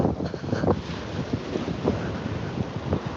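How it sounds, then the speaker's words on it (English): Strong wind buffeting outdoors, a rough, gusty roar with microphone rumble that swells and dips throughout, with no talking. "Okay guys, it's quite windy."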